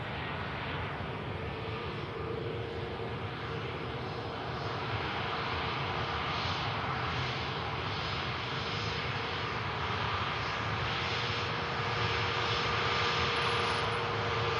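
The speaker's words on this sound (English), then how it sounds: "Just making the rapid exit," A KLM Airbus Neo airliner rolls off the runway via the rapid exit after landing at Manchester Airport, giving a continuous engine roar with a steady whine, moderately distant and unbroken by voices.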